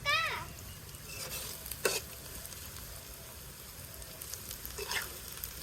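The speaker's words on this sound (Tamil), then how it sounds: "இப்போ வெங்காயம் வந்து நல்லா கோல்டன் ப்ரௌன் வரணும், அது வரையும் நல்லா அடுப்புலேயே இருக்கட்டுங்க. நல்லா கிளறி விட்டுக்கலாங்க." Onions fry in a pan being browned to golden, a soft sizzle under occasional stirring scrapes, fairly quiet and close.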